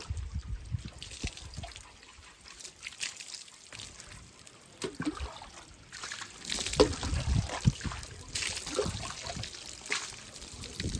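Water trickles and splashes continuously while someone washes their head and face outdoors on a farm, the pouring swelling and fading unevenly, with brief faint voices now and then.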